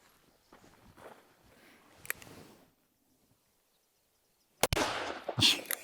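A .44 Magnum revolver fired at steel rock chuck targets outdoors: a faint crack early on, then a loud sharp gunshot near the end followed by a ringing impact, with quiet rustling between.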